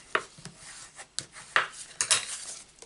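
A folded Stampin' Up cardstock card base, scored at 4 1/8 inches, being burnished along its crease, heard as a handful of short, close scraping rubs in an irregular rhythm, with no talking.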